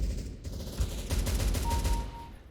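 Gunfire from the video game Counter-Strike: Global Offensive: a dense, loud burst of rapid shots and impacts running through the whole stretch, with a brief tonal whine near the end.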